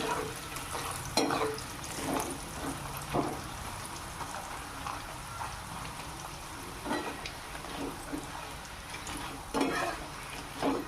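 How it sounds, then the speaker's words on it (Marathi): Banana wafer slices frying in hot oil, with a steady low sizzle and occasional louder bursts and scrapes as they are stirred, heard alone without talk. "थोडे वेळ चांगला अजून तळून घ्यायचं"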